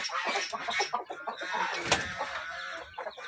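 A mother hen with newly hatched chicks, kept in a garden coop, clucks repeatedly and close by, with thin chick peeps and other fowl sounds mixed around her.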